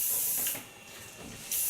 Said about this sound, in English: Take a soft hairspray.